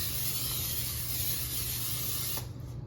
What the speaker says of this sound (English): Just very lightly with cooking spray.